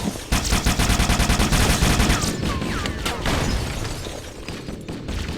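Rapid automatic gunfire from the Flood in Halo: Combat Evolved, a loud close burst of evenly spaced shots for about two seconds, then scattered blasts and weapon effects trailing off under game noise.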